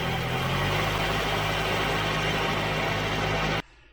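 A Volvo 740 engine, suffering PCV trouble, held at raised revs with a steady, loud mechanical drone that runs unbroken before cutting off abruptly near the end.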